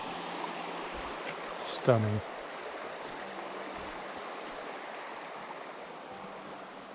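A mountain stream on the Little Brier Gap Trail flows past snowy banks in a steady, soft wash of water. A single word is spoken briefly over it.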